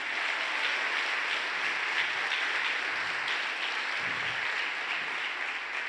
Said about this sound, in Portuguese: palmas para a Sônia